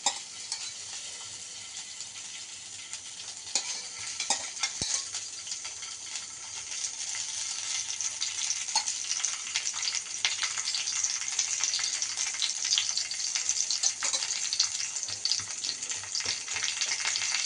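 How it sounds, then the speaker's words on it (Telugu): Stuffed green chillies fry in oil in a pan, a continuous bright sizzle that grows slightly louder over time, with faint bubbling and no voices. "దీంట్లో ఇప్పుడు కొంచెం ఆయిల్ వేసి బాగా వేయించుకోవాలండి, అటు ఇటు మొత్తం ఎర్రగా అయ్యేంత వరకు"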